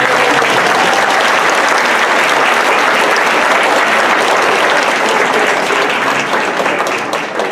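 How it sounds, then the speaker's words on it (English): A crowd at the 2018 Monterey Peninsula Pride celebration applauds loudly and continuously, dense clapping filling the whole stretch without pause before tapering slightly at the end. "And a round of applause for Akin James Miller."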